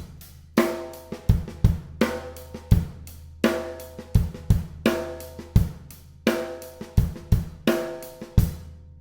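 Drum kit groove played up to tempo with ghost notes: sharp kick and snare hits in a steady repeating pattern with softer in-between strokes and cymbal wash, loud and close, no talking.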